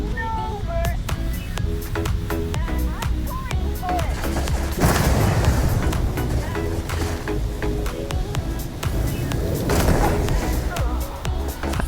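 An explosion in the video game Starfield bursts out midway amid rapid weapon fire from the Va'ruun Starshard, with game sound and tonal effects running underneath.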